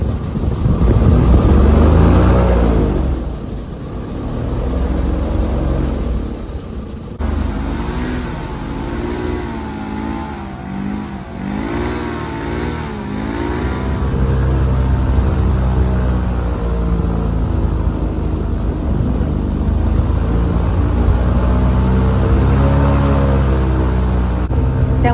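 Airboat engine roaring steadily through a ride on the water after Hurricane Ian, loud and close, with the pitch swelling and easing as the boat speeds up and slows, continuous throughout.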